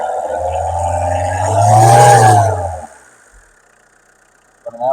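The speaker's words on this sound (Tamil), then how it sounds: "நல்லா ரேஸ் பண்ணுப்பா. நம்மளே ரேஸ் பண்ணி காமிச்சிடலாம்" A used petrol car at a budget car dealership in Katpadi, Vellore, is revved: the engine swells to a strong rising whine, peaks, then drops back and fades to quiet, with a brief noise at the end.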